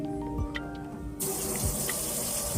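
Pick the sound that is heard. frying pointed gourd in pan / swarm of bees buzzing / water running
water running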